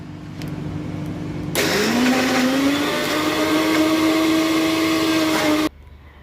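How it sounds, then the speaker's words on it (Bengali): A personal blender with an 11-jar set, making a paste, switches on with a rising motor whine that holds as a loud, steady whir for about four seconds, then cuts off abruptly. "আর এটা আমি বানাচ্ছি এই 11 জার পার্সোনাল ব্লেন্ডারটা দিয়ে"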